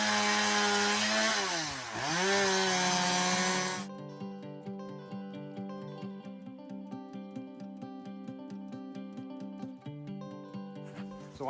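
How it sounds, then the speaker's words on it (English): A chainsaw cuts firewood at an off-grid cabin, starting with a loud, close whine that dips as the blade bites and then settling into a quieter idle with rhythmic ticking. "So gonna cut some firewood first"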